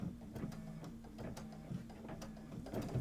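A sewing machine works an arch-shaped decorative stitch on a quilted table topper, a faint, steady, rapid mechanical clatter with a regular pulsing rhythm and no talk.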